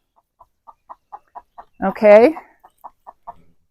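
Chickens cluck in short, evenly spaced calls, with one louder squawking burst in the middle, heard while a dog trains on them in a quiet yard; a voice speaks briefly.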